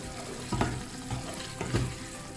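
Pea eggplants added to simmering panang curry, with wet stirring and soft sizzling scrapes in two or three short bursts over a steady low bubbling, close by and without talk.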